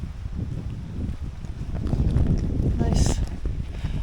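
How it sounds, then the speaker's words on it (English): Wind gusts buffeting the microphone on an open stretch of the Cape Wrath Trail, a steady low rumble that swells toward the middle, with no talk. "when the wind's out here, this breeze is just phenomenal"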